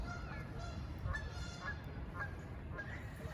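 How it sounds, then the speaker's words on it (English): Out in a park, a bird honks in a string of repeated calls over steady background noise, not especially close. "That duck was loud."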